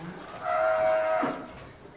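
A single cow moos once, a clear, drawn-out lowing call of about a second at moderate distance over a faint steady background.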